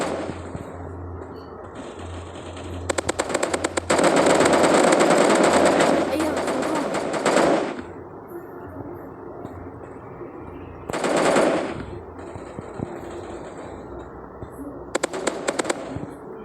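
Rapid automatic gunfire from the video game Maskgun bursts loud and close in several long volleys and a short later burst, over continuous game background noise.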